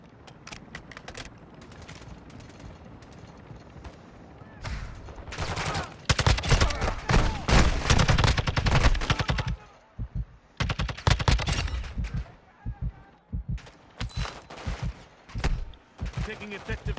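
Gunfire from a Call of Duty match in Al Mazrah, starting as scattered shots and growing into dense, loud automatic bursts mid-clip, then breaking into sporadic volleys, with voices talking throughout.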